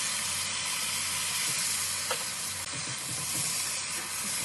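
Chili and tauco, a fermented soybean paste, sizzle steadily in hot garlic oil with a dense, continuous hiss and crackle, close and loud, with a brief clink of a utensil partway through and no voices.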